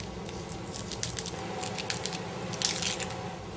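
Dry papery skin is peeled from a halved onion by hand, giving close, light crackles and crinkles in scattered bursts, loudest near the end, with no voices.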